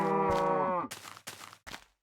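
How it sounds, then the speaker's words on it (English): A Minecraft cow gives one clear low moo, followed by a few short soft scuffing game noises. "The old Minecraft sounds. The cows?"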